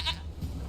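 A single short goat bleat from a stray goat in The Witcher 3, heard near and moderately loud against a soft game ambience.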